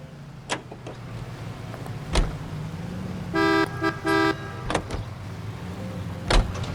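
A car drives through L.A. Noire's 1940s Los Angeles under a steady low engine hum. Sharp knocks and bumps punctuate it, and a clear two-tone horn toots twice in the middle.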